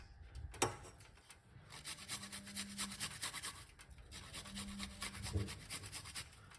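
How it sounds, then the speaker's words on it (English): Fresh ginger scraped across a grater in short, quiet rasping strokes with a steady back-and-forth rhythm, close by and fairly soft, with no talking. "I'm gonna grate a little piece of a ginger inside of it."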